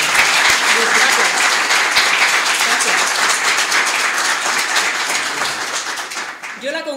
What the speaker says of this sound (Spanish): Un aplauso, por favor, para Luis.